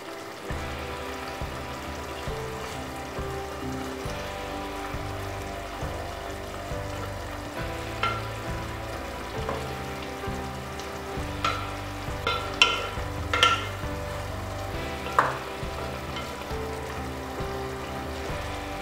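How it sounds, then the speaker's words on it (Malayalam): Fried fish added to a boiling biryani gravy for a spicy Kerala fish biryani, bubbling and sizzling steadily with stirring scrapes and a few louder clatters near the pan. "ഗ്രേവി തിളച്ചിട്ടുണ്ട്. നമുക്കിനി ഇതിലേക്ക് ഫ്രൈ ചെയ്ത് വെച്ചേക്കുന്ന ഫിഷ് ചേർക്കാം."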